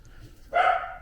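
A pet dog lets out a single short, loud bark in a garage workshop after a quiet moment, close to the microphone.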